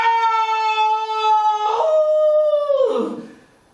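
A stage performer's voice imitates a dog or wolf howl: one loud, sustained tonal wail that drops in pitch partway through and again near the end, trailing off alone.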